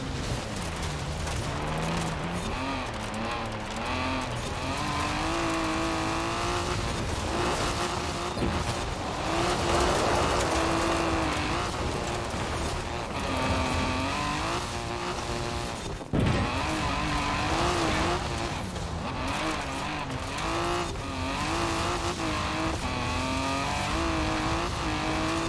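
A Peugeot 207 Super 2000 rally car in Forza Horizon 4 races along, its engine revving and shifting through gears with occasional tire squeal, loud and continuous without talk.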